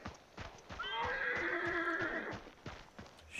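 A horse in a video game lets out a loud, drawn-out whinny lasting over a second, framed by rhythmic clip-clop hoofbeats before and after, with no speech.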